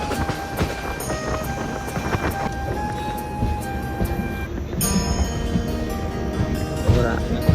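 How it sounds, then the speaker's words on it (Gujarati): Inside a local express train on the line toward Veraval Junction in Gujarat, a loud, constant rumble and rattle of wheels on the rails continues throughout, with a brief higher squeal partway through and faint voices mixed in. "લોકલ ટ્રેન છે એક્સપ્રેસ."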